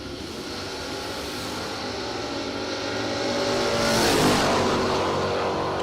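A Camaro and a truck launch side by side at a drag strip, their engines building into a loud, rising roar that swells toward a peak before easing slightly, with no talk.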